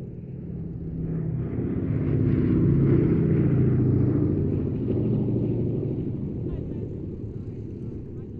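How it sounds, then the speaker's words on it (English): A B-17G Flying Fortress bomber, Sally B, passes at an airshow with a deep, loud four-engine piston drone that swells to a peak midway and then slowly fades, with wind buffeting the microphone. "The last remaining B-17 flying fortress in Europe."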